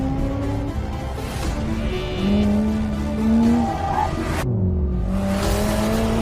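A Subaru Legacy's tires squeal in long, loud whining tones while the car skids, mixed with engine revving and roaring in close succession.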